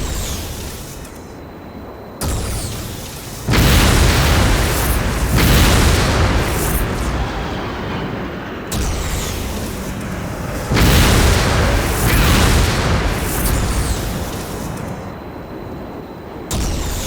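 In the Star Trek: Elite Force II game, guided quantum torpedoes set off a series of heavy booming explosions, several big blasts with rumbling tails following one another close and loud, with no talk over them.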